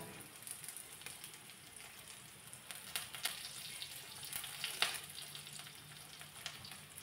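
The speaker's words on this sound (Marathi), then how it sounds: "थोडासा लालसर कलर होईपर्यंत कांदा मी परतून घेतला" Chopped onion frying in a pan for kanda poha gives a soft, steady sizzle with light crackles and occasional sharper pops and clicks of stirring.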